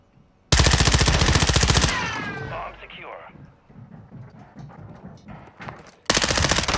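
Rapid automatic gunfire in Call of Duty: Modern Warfare II Search and Destroy, a loud sustained burst that tails off into echoing reverb and scattered sounds, then another loud burst at the end, with voices talking underneath.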